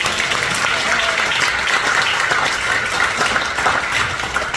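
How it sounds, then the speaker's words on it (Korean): Church audience applauding steadily and densely in thanks to God at a Christian academy lecture, a sustained wash of many hands clapping with some voices mixed in. "이렇게 큰 은혜 해주신 우리 하나님께 감사의 박수 올려주시면 어떨까요?"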